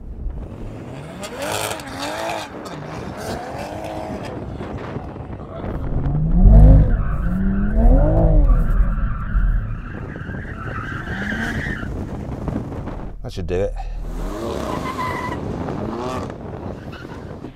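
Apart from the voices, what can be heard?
car tyres spinning to warm up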